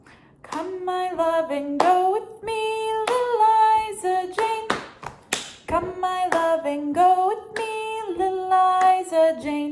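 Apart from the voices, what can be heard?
rhythmic hand clapping pattern to Little Liza Jane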